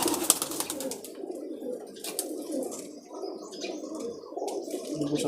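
Pigeons coo continuously in a loft in Ras Al Khaimah, UAE, a close, layered throaty murmur with faint chirps.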